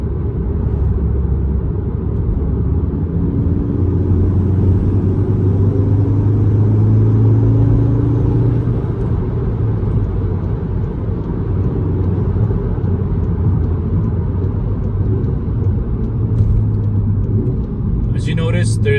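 A Volkswagen MK7 Golf R running with its sound actuator in normal mode gives a steady low engine rumble and drone throughout, with someone talking over it.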